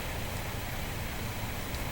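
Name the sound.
rain falling outside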